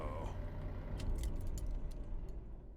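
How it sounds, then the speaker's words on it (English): Truck keys jangle in a quick cluster of light metallic rattles in American Truck Simulator, heard over a low idling diesel engine rumble. "and the key sound that you heard there"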